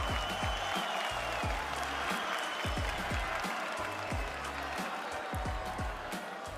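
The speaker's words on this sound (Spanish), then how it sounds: "¿podemos dar un fuerte aplauso, por favor?" A crowd at the Red Bull Batalla national rap battle final in Chile claps steadily, a dense wash of applause with some louder rhythmic thumps mixed in, filling the whole stretch.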